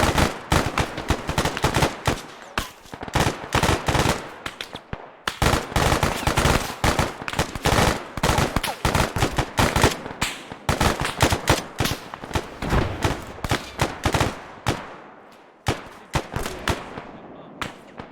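Dense rifle gunfire, including AK-type weapons, erupts in an airsoft-style strike and defense game after a call to open fire, with rapid bursts and single shots crackling loudly and nearly nonstop, and brief pauses.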